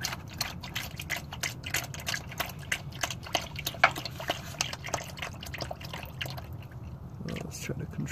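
Old dirty transmission fluid gushing out of a 2004 Subaru Outback H6 3.0 into a drain pan, a steady close splashing pour with dripping patter, and someone speaking over it.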